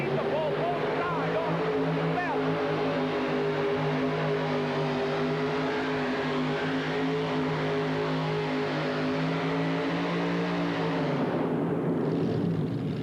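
The Northeast Raider, a pulling tractor with three Aries engines, roars at a 1986 indoor tractor pull. Its engines give a loud, sustained, droning growl that fades near the end, while an announcer talks over it.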